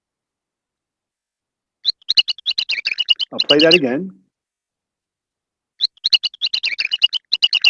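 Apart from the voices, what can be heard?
male mouse ultrasonic vocalizations, recording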